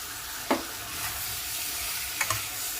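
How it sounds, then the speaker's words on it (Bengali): Cut cucumber pieces drop into a pan of sizzling tomato and spice mixture, with two sharp clatters of pieces landing and a spoon stirring over a steady, moderate fry. "এই সময় আমি কেটে রাখা শশার টুকরোগুলো দিয়ে দেব।"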